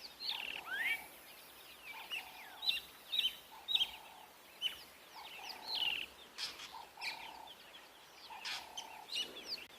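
A fork-tailed drongo calls while mobbing a Wahlberg's eagle on a sunset safari, with repeated sharp chirps, whistles and harsh notes in irregular bursts. The calls sit over quiet, faint outdoor background.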